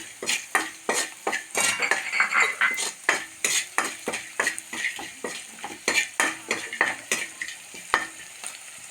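Whole cardamom pods, cloves and a piece of cinnamon frying in oil in a pan for chicken kurma. A spoon scrapes and clinks against the pan in a steady, quick rhythm over a soft, continuous sizzle. Close up, with no talking.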